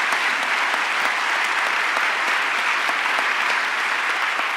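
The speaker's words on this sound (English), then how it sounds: "Let's give them another big round of applause" A big round of applause for 50-year university service honorees at a celebration ceremony, dense and steady clapping from a large audience that holds at an even level throughout.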